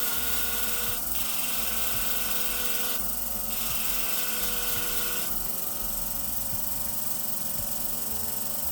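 Curved grooming shears are ground on a Katoku guiding system, giving a steady, close mechanical whir that runs for the whole stretch, with brief high rasping bursts as the blade passes.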